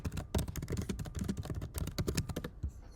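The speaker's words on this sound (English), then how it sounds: "then I'm going to continue typing" Rapid typing on a computer keyboard, close and crisp, with dense irregular key clicks running steadily for nearly three seconds before stopping at the end.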